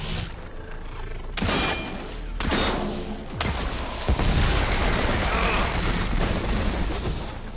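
Heavy weapon blasts in Horizon Forbidden West: a loud, sustained barrage of booming shots and bursts, with repeated heavy impacts every second or so over a dense, rumbling backdrop of explosions.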